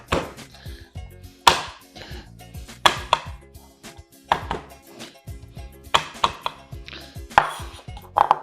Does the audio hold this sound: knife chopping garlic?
yes